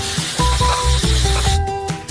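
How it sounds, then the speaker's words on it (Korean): Liquid nitrogen sprays onto hot caramel with a loud, close hiss and sizzle, sounding in several short bursts and then a longer steady rush. "뜨거운 캐러멜에 직접 질소를 뿌려요."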